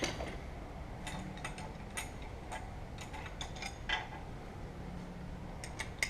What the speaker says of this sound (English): judge the tightness with an open end wrench on the other ones, or a box end wrench